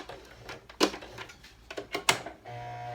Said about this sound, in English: I'm just going to sew straight across. Going to start by doing a back stitch